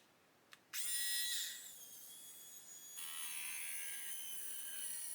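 A small high-pitched Galax Pro electric sanding tool whirs on after a brief click while working on an Airfix 1/72 Lancaster model kit, spinning steadily with a shift in pitch partway through; no talking.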